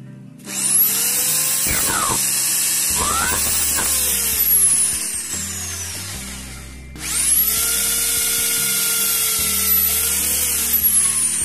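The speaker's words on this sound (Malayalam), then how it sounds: "എന്നിട്ട് ആ ഒരു പീസും കൂടെ കട്ട് ചെയ്യണം." A power tool cuts a round piece of PVC for a radio-controlled truck tyre, whining bursts that rise and fall in pitch, pausing briefly near the middle before starting again, loud and close with no voices.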